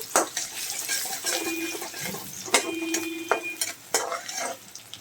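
Onion and dried chillies with panch phoron and garlic frying in oil in a pan: a soft sizzle with stirring scrapes and clinks, a few sharper knocks, fairly close, no talk.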